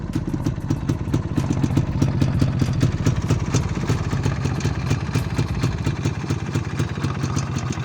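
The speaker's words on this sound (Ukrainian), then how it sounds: "Зараз дам газу" Motorcycle engine running with rapid, even firing pulses and clatter, steady and close throughout, no clear rev peaks, no speech.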